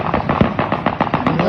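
Rapid bursts of gunfire crackle from played-back footage in a fast, uneven string of sharp reports, dense and fairly loud with little gap between shots.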